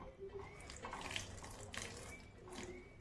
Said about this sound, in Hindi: तो हल्का सा पानी डालेंगे इसमें